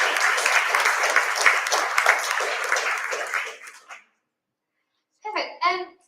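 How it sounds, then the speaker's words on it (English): An audience at a teachers' meetup claps warmly after a presentation, with about four seconds of full applause that fades out. A short pause follows, then a voice speaks. "we'll give you a clap."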